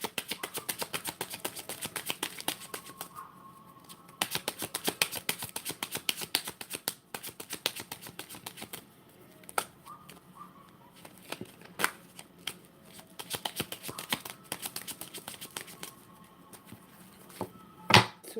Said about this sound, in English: Two more shuffles, y'all.